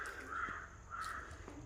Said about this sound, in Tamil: கூடவே காக்காவும் சேர்ந்து சாப்பிடுது.